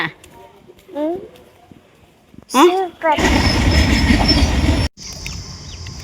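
A train roars past close by with a loud rushing rumble and metallic rattle, preceded by people talking nearby, then cuts to quieter background.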